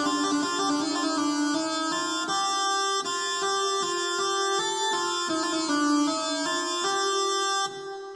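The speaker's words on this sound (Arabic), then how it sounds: "وفي هذا صوت الزوري كمان." A zouri rhythm pattern plays on a melodic instrument as bright sustained tones in a steady repeating pulse, loud and close, with no talking.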